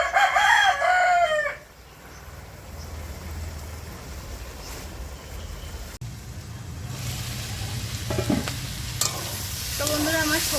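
Vegetables frying with panch phoron in a pan, a soft continuous sizzle with intermittent stirring scrapes, after a brief rooster-like crow at the start and some faint background sounds.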